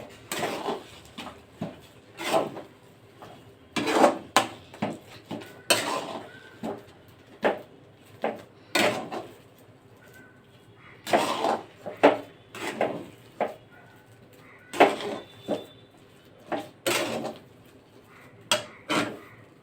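A spoon stirs rava vada batter in a bowl, making repeated clinks and scrapes in an uneven rhythm, close and fairly loud, with quiet gaps between strokes.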